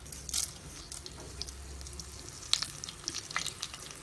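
Whole coriander seeds fry quietly in hot oil, giving a faint, steady sizzle dotted with scattered crackles and small pops.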